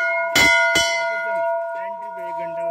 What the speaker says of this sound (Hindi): अभी हम घंटी बजा के जो है मंदिर के अंदर प्रवेश कर चुके हैं